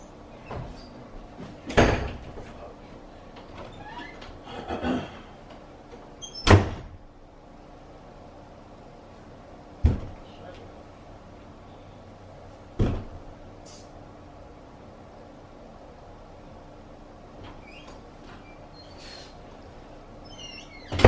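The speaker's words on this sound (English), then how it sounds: "Slamming the doors." Doors slammed shut indoors, one sharp loud bang after another spaced a few seconds apart, with fainter rattles and creaks in between and quiet pauses.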